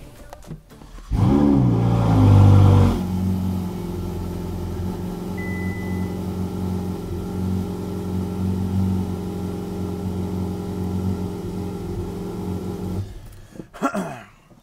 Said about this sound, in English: We use the Ferrari as a cold start. Ferrari start.